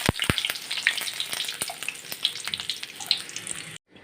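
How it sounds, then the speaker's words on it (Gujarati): Curry leaves and three dried red chillies fry in hot oil with a loud, close, crackling sizzle and sharp pops near the start, running steadily before cutting off abruptly at the end. "ત્યારબાદ આપણે મીઠા લીમડાના પાન અને સૂકા આ રીતના મેં અહીંયા 3 નંગ મરચાં લીધેલા આપણે સરસ રીતે ફ્રાય કરી લઈશું"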